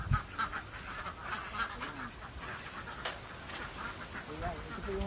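Ducks on a farm in Alfonso, Tagaytay, Cavite give scattered honking quacks at a moderate distance while a person talks over them.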